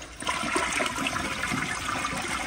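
A 2000s elongated Vortens Vienna toilet flushes close up, a loud continuous rush of water through the bowl and rim jets that holds steady throughout.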